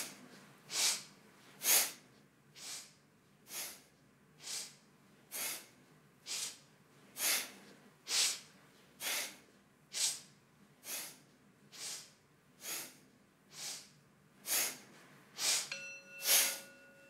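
Kundalini sniff-and-throw breathing: about seventeen sharp, evenly spaced breaths, each a quick nasal sniff in and a forceful push out, close and alone in a quiet room.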